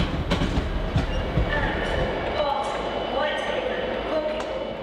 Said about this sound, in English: I took it to Carlisle train station, and there was a lot going on there.